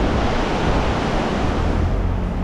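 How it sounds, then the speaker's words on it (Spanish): The Rímac river flows beneath the Chosica suspension bridge, a loud, constant roar of rushing water with no breaks. "Este es el río Rímac."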